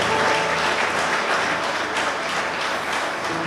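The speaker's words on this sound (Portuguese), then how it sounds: "Quantos podem dar uma salva de palmas e um brado de júbilo ao nosso Deus?" Full congregation applause during a church service, dense steady clapping with a low hum and worship sounds underneath, continuing evenly throughout.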